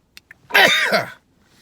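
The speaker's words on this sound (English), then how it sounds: "I love a good sneeze." A couple of quick sharp inhales, then one loud, forceful sneeze up close, followed by quiet.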